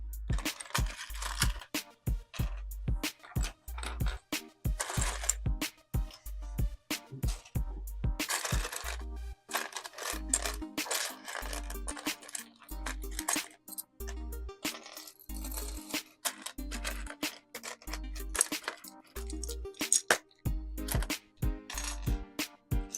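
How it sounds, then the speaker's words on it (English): Plastic LEGO bricks from set 71514 Dino Jet click and clack repeatedly as they are sorted and handled, a dense run of sharp close-up rattles and taps with no talking. "You get to hear that nice clickety clackety of all the bricks."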